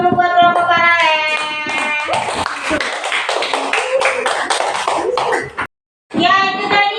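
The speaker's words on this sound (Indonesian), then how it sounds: "Beri tepuk tangan dulu buat kelompok paralel." Classroom of students clapping for a student group after an electric circuit lesson, a lively burst of clapping mixed with children's voices, cutting off briefly near the end before resuming.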